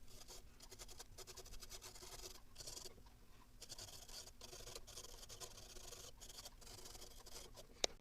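Steady soft scratchy bristle strokes of a brush over plastic model Sherman tank tracks, a continuous close, quiet rubbing texture with brief pauses and a small click near the end.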